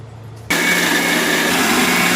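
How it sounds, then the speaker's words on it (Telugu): After half a second of quiet, a mixer grinder abruptly starts and runs at a loud, steady high-pitched whir for the rest of the clip. "పెట్టుకునే కట్ చేసి మిక్సీ చేయాలి"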